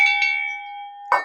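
A notification bell sound effect, a bright ringing chime struck twice in quick succession with a sustained ring, then a sharper strike near the end, loud and alone.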